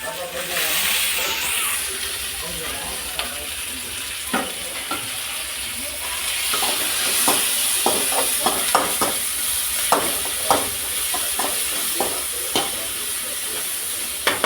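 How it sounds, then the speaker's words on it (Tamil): Tomatoes sautéing in a pan for kurma, a steady sizzle with intermittent stirring scrapes and clinks running throughout, fairly close and moderately loud. "தக்காளி நல்லா வதங்கட்டும்."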